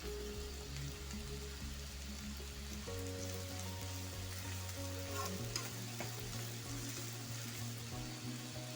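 Onion and garlic frying in a pan give a steady, close sizzle that runs unbroken from start to finish, with low steady tones in the background and no voices.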